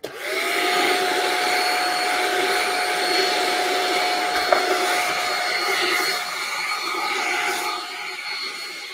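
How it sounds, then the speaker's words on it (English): A vacuum cleaner in a guitar repair workshop switches on and drones loudly and steadily, a constant whine with a faint brief tone near the start. "Vacuum is coming on."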